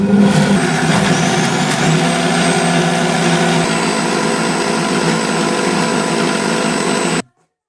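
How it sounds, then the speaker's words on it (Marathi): A loud, steady motorized whirring and grinding from a kitchen mixer churning cream skimmed from cow's milk runs continuously for about seven seconds, then cuts off abruptly into silence. "आता हे मिक्सरला फिरून घेते"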